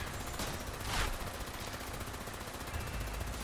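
Rapid bursts of automatic gunfire in Fallout 76, shooting at roaches, a dense rattling stream with a sharper crack near the start, over steady background noise.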